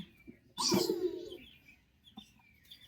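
Pigeons calling nearby: one loud, drawn-out call that slides downward, followed by quiet gaps and a few faint, short chirps.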